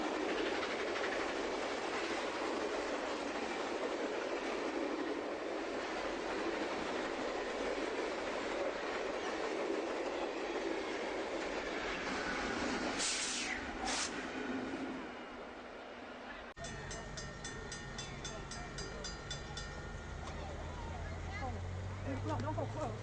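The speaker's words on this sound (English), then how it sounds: "Racing through St. Charles, the train is doing all but the track speed of 40 miles per hour as she races past Zumbell Road." A Nickel Plate train races through St. Charles, Missouri, at close to its 40 mph track speed past Zumbehl Road. It makes a loud, continuous rumbling roar with clattering wheels, brief high horn-like tones midway, and a heavier, lower rumble toward the end.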